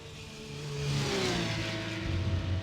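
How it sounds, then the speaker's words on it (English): Racing car engines rev and drone in an iRacing simulation of Road America with Porsche Cup and GT3 cars, a continuous close engine roar that rises in pitch through gears with other cars audible underneath. "Gosh, that car sounds good."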